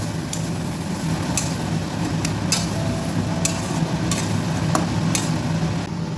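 Egg dal tadka being mixed into a pan, with a steady low cooking bubble under repeated sharp scraping clicks of a spoon against the pan, moderately close, no voices.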